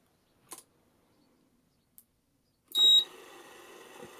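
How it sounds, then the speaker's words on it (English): Two faint clicks, then a single short, sharp electronic beep from a Scoopic 16M film camera's sync buzzer as recording starts, followed by a low hiss of background noise. "when the camera starts, I get a short loud beep out there"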